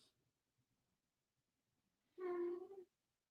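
A pet cat gives a single drawn-out meow, clear and fairly close, after a moment of near silence with faint background murmur.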